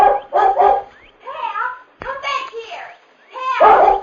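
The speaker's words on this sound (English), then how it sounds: "As soon as they heard the dog barking, the Lone Ranger and Tonto leaped to their f" Collie barking in an old radio drama, several sharp nearby barks in short bursts separated by pauses, alternating with a voice.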